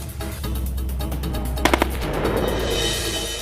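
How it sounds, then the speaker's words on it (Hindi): Gunfire during an enemy attack on a border police post in Ladakh: a dense, loud rattle of rapid shots with a cluster of distinct cracks midway, fading into broadband rumble. "पोस्ट पर अचानक दुश्मन की गोलीबारी"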